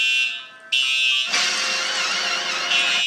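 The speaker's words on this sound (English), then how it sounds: "Oh no, the fire alarm went on." A fire alarm at a Chuck E. Cheese's blares loud and continuous, a harsh steady electronic tone that shifts pitch partway through and fills the whole space with no talk.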